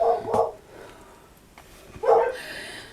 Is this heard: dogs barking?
yes